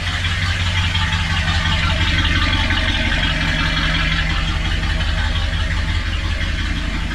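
A Highboy hot rod's engine idles steadily and smoothly at close range, a constant low rumble with no variation in speed.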